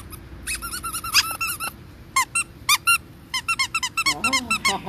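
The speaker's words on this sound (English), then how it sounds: "I'm trying to find the squeaker." A dog's squeaky toy squeaks repeatedly in quick bursts and pairs, loud and close, with short pauses between squeezes and a low steady hum underneath.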